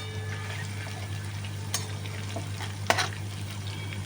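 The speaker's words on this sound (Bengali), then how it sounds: "এই তেলেতেই জিরে, তেজপাতা, শুকনো লঙ্কা সম্বার দিয়ে দিলাম" Cumin seeds, bay leaf and dried red chillies sputter in hot oil alongside frying potatoes, a steady close sizzle broken by a couple of sharp stirring scrapes.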